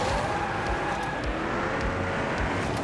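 A Koenigsegg Agera RS racing through Osaka in Asphalt 9 on Nintendo Switch, engine roaring steadily and loud as it slips past a rival car in a near miss, with no talking.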